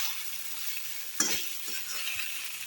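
Broken-up fish pieces frying in a pan give a steady soft sizzle with a brief louder crackle, fairly quiet and close, with no talk.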